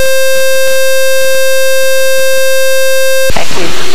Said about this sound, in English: Silence the alarm.